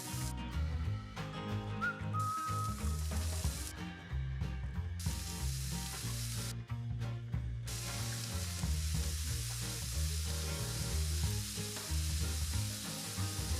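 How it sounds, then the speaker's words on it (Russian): Vegetables and tomatoes fry in a skillet with a loud, continuous close-up sizzle, broken by brief quieter gaps and scraping stirs. "И обжариваем, чтобы они пустили сок."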